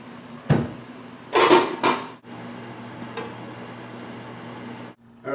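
A pot lid clatters onto a simmering pot with several sharp metallic knocks, followed by a steady low hum and faint bubbling.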